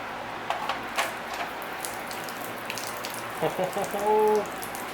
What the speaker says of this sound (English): That water running out is not a good sign.